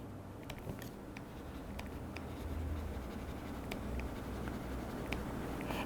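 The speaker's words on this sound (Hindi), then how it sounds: "मैं यहाँ पर लिखती हूँ" A teacher writes during a biology lesson, giving faint, light scratching strokes in short bursts over a steady background hum, with no speech.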